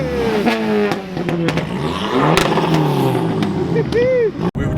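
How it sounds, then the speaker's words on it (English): Show car engine revving hard while people talk over it, with rising and falling engine pitch and a short burst near the end. "Go on, rev it, Sam, go on!"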